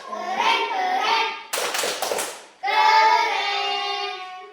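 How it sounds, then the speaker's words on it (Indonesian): A schoolroom of children performs a patterned 'tepuk keren' clap for group 1, bursts of sharp rhythmic hand claps set between stretches of young voices chanting together. "kasih tepuk keren dulu untuk kelompok 1"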